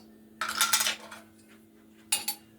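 A spoon clinks against pots and dishes in a home kitchen while chicken soup is being made, one sharp cluster of metallic rattles followed by a shorter second clatter, close and loud with no voices.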